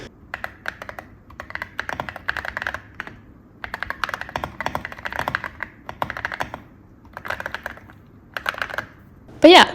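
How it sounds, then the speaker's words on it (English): Fingers type on a mechanical computer keyboard in quick bursts of crisp clicking keys separated by short pauses, close and clear, with no talking over it. "here you can hear a sneak peek of how my keyboard sounds"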